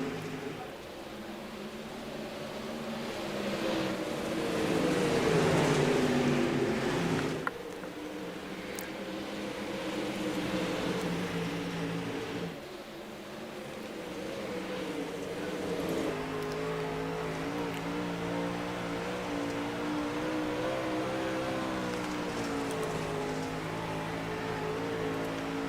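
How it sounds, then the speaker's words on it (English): Dirt kart race cars roar around a track in a pack, their engines droning and revving steadily with rising and falling pitch as they pass at close to middle distance, with no talk over them. "He's going to be right on the back bumper of Steven Lindau."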